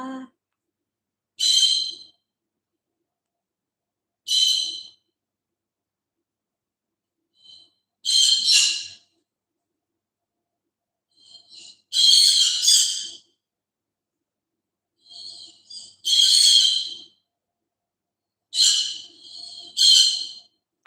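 Pet bird calling indoors, a series of short high squawks and whistles repeated at irregular intervals, each burst brief and fairly clear against a quiet background.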